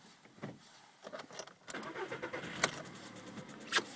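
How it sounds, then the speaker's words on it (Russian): A warm 1.6-litre CFNA engine in a VW Polo sedan, running with a knocking fault, cranks and catches. Several short bursts build into a choppy, uneven rumble close by, with no talk over it. "Сейчас я запущу двигатель."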